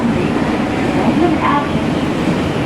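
A local train bound for Aomori, Japan, rumbles steadily beneath a faint murmur of voices, a constant dense hum with no clear breaks.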